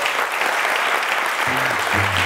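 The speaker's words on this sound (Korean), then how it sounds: "박수 한번 주세요" A talk-show audience gives a loud, close burst of sustained clapping, a dense wash of hands with a steady low tone entering underneath near the end.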